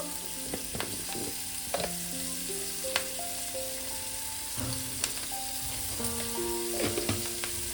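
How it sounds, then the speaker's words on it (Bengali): Onion flowers frying in hot oil for an amudi fish curry, a steady close sizzle with intermittent clinks and scrapes of stirring throughout, no voices. "পেঁয়াজ কালিটাকে আমি একটু ভালো করে ভেজে নেব।"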